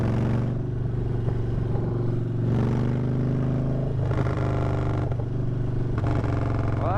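A loud Harley-Davidson motorcycle riding after a storm, its deep steady engine rumble continuous and close throughout, with throttle changes and some wind and road noise.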